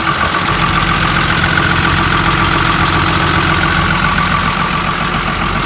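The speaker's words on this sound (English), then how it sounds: "The motor sounds good. It revs up nice. It idles smooth." The engine of a 2002 Sterling M8500 bucket truck idles up close, a loud, steady diesel drone with a low rumble and a faint knocking texture. The sound stays even throughout and no one speaks.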